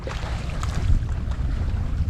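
A sailboat under sail in a light swell of about 20–30 cm, with steady wind rush and low water wash against the hull filling the background.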